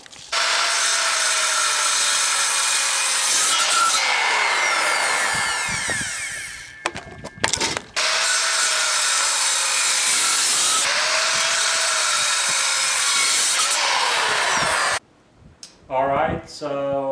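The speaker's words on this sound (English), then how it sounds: "we trimmed the ends off because they're probably really dirty and sandy and gritty" Power saw trimming the dirty, gritty ends off old growth exotic hardwood boards, a loud sustained cutting whine in two long passes broken by brief clatter and a pause, with a short burst of handling noise at the end.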